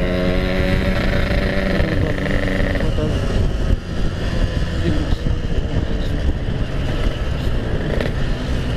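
Yamaha RX King motorcycle, a 2000 model, with its engine running loud and close throughout, a steady rough two-stroke drone with revs rising and falling; a voice talks briefly over it.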